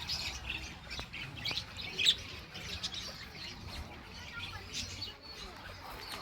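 Budgerigars at a theme park aviary chirp and squawk in short, scattered bursts at moderate distance, over a soft background murmur.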